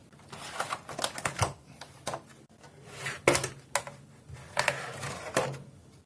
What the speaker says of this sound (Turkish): Açalım şöyle kutumuzun.